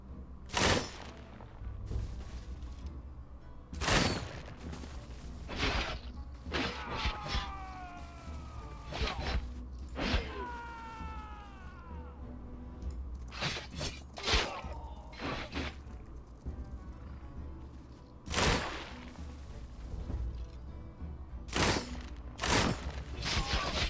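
Medieval crossbow volleys in the strategy game Humankind, repeated sharp loud shots in irregular bursts, some clustered close together, over a low battle rumble with sweeping tonal effects in between.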